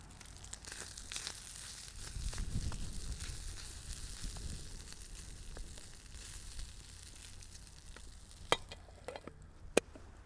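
Potatoes and meat fry in a camping mess kit, giving a soft, continuous sizzle with occasional stirring scrapes and crinkles, faint and close, with no talking.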